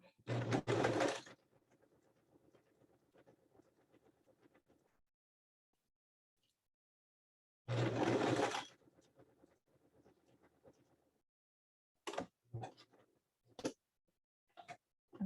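Sewing machine stitching side seams on knit fabric: two short, loud bursts of fast mechanical whirring and clatter, separated by quiet pauses, followed by a few brief ticks and clicks.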